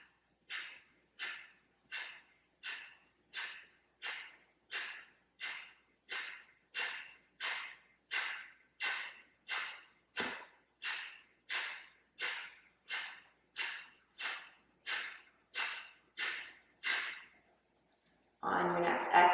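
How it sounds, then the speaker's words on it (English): Around two dozen short, forceful nasal exhales of Kapalabhati yoga breathing, evenly spaced like quick puffs with lips closed, continue steadily for close to twenty seconds and then end in a longer rushing breath. "it's a sharp exhale, and the inhales happen naturally"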